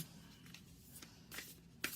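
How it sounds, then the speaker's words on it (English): Tarot cards being shuffled by hand in a quiet room, with soft repeated riffling and sliding rustles and a sharper slap near the end, close and fairly faint. "I'm shuffling in front of you."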